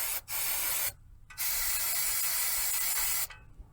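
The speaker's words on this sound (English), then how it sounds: "I'm going to put some nut buster on here." Nut Buster penetrating oil sprays hard onto rusty bolts during front strut and sway bar link work on a Hyundai Santa Fe: two long hissing bursts with brief breaks, then a short final spritz, close and loud.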